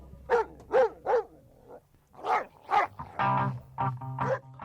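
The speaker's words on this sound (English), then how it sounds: "dog that happened to be in the studio and started barking" A dog barks in a recording studio, captured on an album track: a series of distinct, close barks in two clusters followed by a longer whining, yelping bark.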